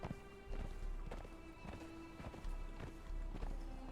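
Horse hooves clip-clopping at a steady riding gait in the Conan Exiles video game, a rhythmic run of thuds repeating over a constant low background of game sound.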